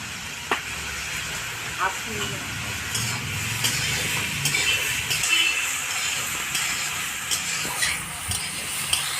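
Hilsa fish curry being stirred in a pan after salt and turmeric go in, with a steady soft sizzle and scraping stirring strokes throughout, plus a few light clinks; no one speaks.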